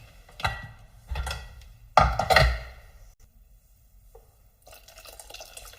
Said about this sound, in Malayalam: ഇനി ഇതിലേക്ക് ആവശ്യത്തിനുള്ള വെള്ളം ചേർത്ത് കൊടുക്കണം.